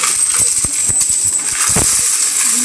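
Coins from a piso wifi coin box tumble and clink out in a loose scatter of sharp metallic hits, fairly close and loud over a steady hiss, with no talking.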